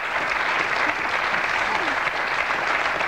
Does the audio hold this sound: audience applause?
yes